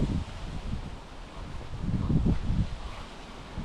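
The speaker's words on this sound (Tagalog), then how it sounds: "Pero lakas oh, lakas ng hangin, no?" Strong wind gusting and roaring at the microphone, with rustling surges that swell and fade; no one speaks.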